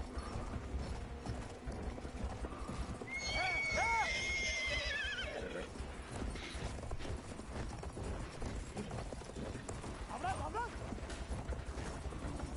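A horse whinnies loudly twice in a video game, with hoofbeats and mechanical clicks, under a player's voice talking throughout.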